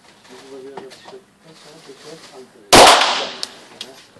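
A Canik TP9 pistol fires a single loud, sharp shot at close range that rings out and decays; talk is heard before the shot.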